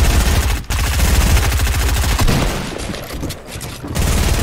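Rapid automatic gunfire crackles in an online shooter match, with dense bursts in close succession, a brief break just after the start and another pause near the end before shooting resumes loudly.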